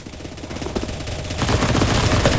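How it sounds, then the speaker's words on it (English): Rapid sustained gunfire from many weapons in CS:GO zombie escape, loud and dense, building into a heavier continuous barrage of automatic shots. "Just jump down and start shooting."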